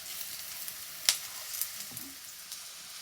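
Carrots frying in a pan for paneer fried rice give a faint, steady sizzle, with one sharp clink near the start and a few soft scrapes after it.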